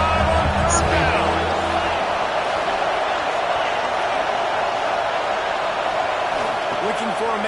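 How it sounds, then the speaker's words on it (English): A Buckeye crowd cheers in a college football video game, a loud, continuous roar of stadium noise that stays full and steady throughout. "The Buckeye crowd alive on first down."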